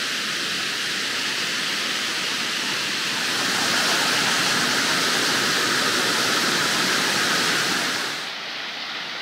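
Steady, loud roar of a waterfall at Mangalala, a secret waterfall in the Isabella area, filling the whole clip with dense white-noise rush that eases slightly near the end.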